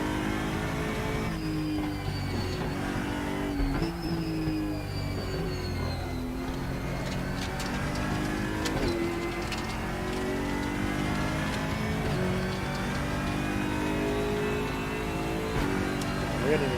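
A race car engine in RaceRoom Racing Experience revs steadily and continuously, its pitch sweeping up and down through gear changes, loud and close throughout with no pauses.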